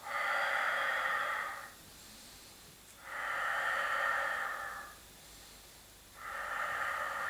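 Slow, deliberate breaths during Pilates leg circles, long airy exhalations lasting about two seconds, three in all, separated by quiet inhalation gaps, close to the microphone.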